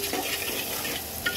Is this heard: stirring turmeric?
yes